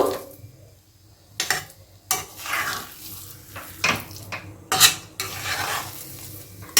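Potato filling cooks with spices in a pan for aloo kachori, a low sizzle punctuated by sharp, irregular stirring scrapes and clinks of a utensil against the pan.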